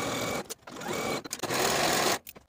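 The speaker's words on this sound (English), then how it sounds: "Sew both of the ruffle skirt side seams with a 3/8 inch seam allowance and finish your seams." Sewing machine stitching the side seams of a ruffle skirt for a dress, running in loud close bursts with brief pauses between, no talk over it.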